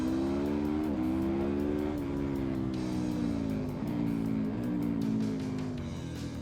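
A KTM 1390 Super Adventure S motorcycle engine rumbles loud and steady, its pitch rising and dipping slightly as the revs shift, heard close with no talking.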